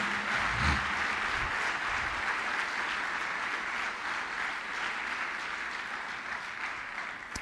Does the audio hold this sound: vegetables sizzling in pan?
no